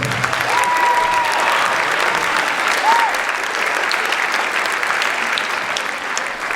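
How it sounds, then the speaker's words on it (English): A school audience applauding a middle school chorus at a spring concert, sustained and loud with many hands clapping evenly, and faint voices and brief whoops mixed into the crowd. "Let's give one more round of applause for our chorus."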